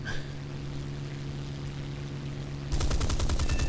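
Mustang Mk Ia fighter guns firing in a flight combat game: engine drone, then a loud rapid burst of gunfire in the final second.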